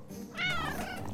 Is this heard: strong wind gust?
no